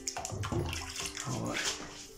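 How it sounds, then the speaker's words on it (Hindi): Water at a pool in the Neom Oxagon camp rushes and splashes steadily nearby, with someone talking over it. "ये देखें, ये पड़ा हुआ है जनाब पानी"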